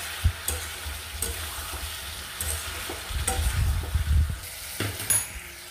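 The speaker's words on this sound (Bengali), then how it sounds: "ভালো করে এটাকে আমি কষিয়ে নিচ্ছি।" Chicken curry with kasuri methi sautéing in a pan, with steady sizzling and a few scraping stirs, one louder bout of stirring midway, no talk.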